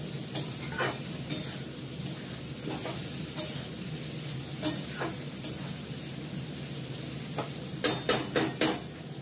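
Meat sizzling and frying in a home kitchen pan, a steady hiss broken by sharp scraping clinks as it is stirred, several quick strokes bunched near the end.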